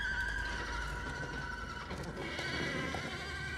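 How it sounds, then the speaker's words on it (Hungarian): Horses in the Halo Nightfall film give loud, drawn-out neighs and whinnies over a steady background, close and continuous across several seconds with no talking. "Mi jutott a lovakba? Éreznek valamit."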